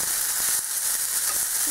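Kale and onions frying together in a pan for a low-carb frittata give off a steady, close sizzle with soft stirring, and no one speaks.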